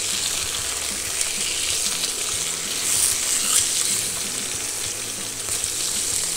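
Salmon fillets searing in a hot frying pan, a steady loud sizzle and crackle that holds evenly throughout with no talk over it.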